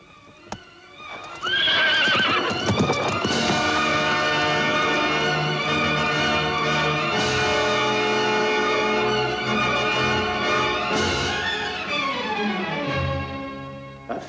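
A horse gives a loud, shrill neigh that rises and falls, with galloping hooves clip-clopping underneath. The whinny carries strongly through most of the stretch and tails off near the end.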